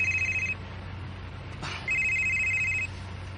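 A telephone rings with an incoming call in two clear electronic bursts separated by a short pause, loud and close over a steady low hum, with no talking.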